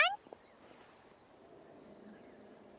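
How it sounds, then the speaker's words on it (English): A juvenile Cucosaurus creature in the video game Genshin Impact gives short, high chirping calls, one at the very start and another at the end, with a faint, quiet ambient background between them. "A bird? No, a juvenile Cucosaurus."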